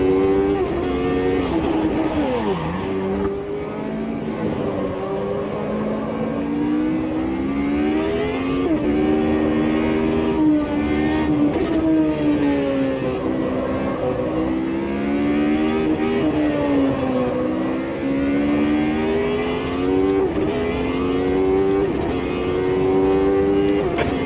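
F Gen race car lapping Hockenheim in Automobilista 2, its engine loud and close, rising and falling through gear shifts in repeated sweeping revs over the full stretch.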